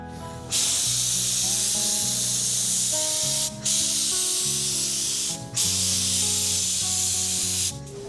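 POR-15 paint being sprayed onto an engine, three long close hissing bursts separated by short pauses, with faint background music underneath.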